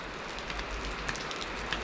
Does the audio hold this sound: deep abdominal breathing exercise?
no